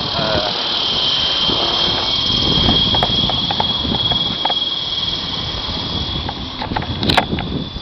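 The engine of an HK 600 aircraft flying over a farm gives a steady high-pitched buzzing drone throughout, loud and close, with rough wind rumble and clattering underneath.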